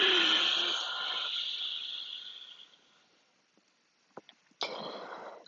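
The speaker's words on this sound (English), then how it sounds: "Inhale through the nose. And exhale." A slow nasal inhale followed by a long, soft exhale, close and quiet in a still room, then a second short breath begins after a pause.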